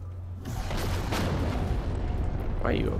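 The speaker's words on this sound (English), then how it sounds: "Why you always shoot me?" Gunfire in the space game No Man's Sky: a dense run of booming, rumbling shots that merges into a steady roar throughout the moment, with a rising whine near the end.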